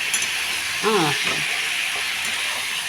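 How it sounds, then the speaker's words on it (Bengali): Potatoes fry in spice paste in a pan with a constant close sizzle and hiss, while a voice briefly speaks over it. "এবার আলুটাকে ভালো করে কষতে হবে।"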